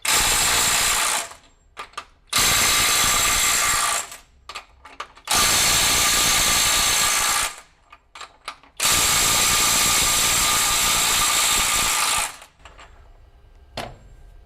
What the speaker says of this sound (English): We're going to let the flex impact wrench try to loosen the fastener for up to 10 seconds.